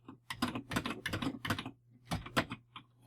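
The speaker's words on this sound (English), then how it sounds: "But if you keep typing" Keys clatter on a Commodore 64 computer keyboard in quick, uneven bursts of close, crisp clicks, with brief pauses between clusters and no voices.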